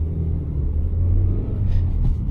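A Suzuki Swift Sport's engine drones low and steady while driving in the wrong gear, a constant rumbling hum heard from inside the car with no talk.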